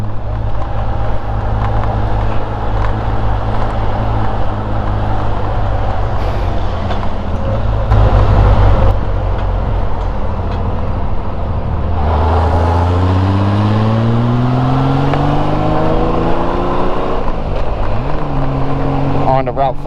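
A Honda Gold Wing motorcycle cruises on rural back roads with a steady, loud engine drone and wind rush; partway through, the engine note climbs as it accelerates and shifts.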